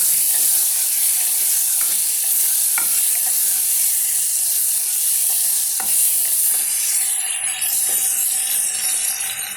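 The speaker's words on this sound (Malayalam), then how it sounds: "ഒരു പച്ചമുളക് ഇട്ട് ഒന്ന് വറുക്കണം" Mango and green chili sizzle and fry steadily in a hot pan, with a few sharp scrapes and clicks of stirring scattered throughout; no talking.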